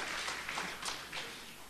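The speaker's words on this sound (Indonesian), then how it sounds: "Mari yang percaya berikan dulu tepuk tangan bagi Tuhan" Church congregation applauding, a faint, dense patter of many hands clapping at once that swells briefly and then tapers off, with no talk over it.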